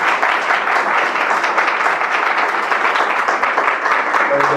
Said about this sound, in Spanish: pedimos un aplauso